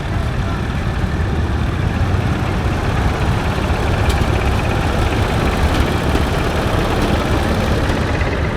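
A 1953 Allis Chalmers WD-45 antique tractor idles steadily at an outdoor steam show, a loud, close, continuous low engine rumble with no pauses, broad outdoor noise mixed in throughout.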